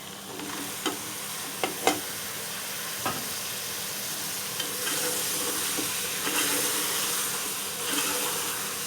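Green chilies and four to five chopped tomatoes sizzle and fry in a hot pan for a smoky mutton curry, a steady loud hiss with a few sharp clinks of stirring, close and without talk.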